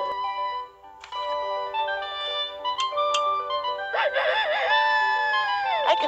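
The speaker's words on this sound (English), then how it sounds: "they've brought out a whole compact disc of rooster crows" A cartoon rooster crows from a compact disc of rooster crows, a bright, tonal cock-a-doodle-doo rising and wavering near the end, loud and clear against a quiet background.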